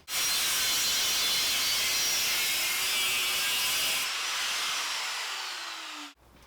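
An angle grinder cuts through a steel spare tire carrier on a Jeep XJ, a loud continuous high-pitched grinding whine that shifts tone partway and stops abruptly as the cut finishes.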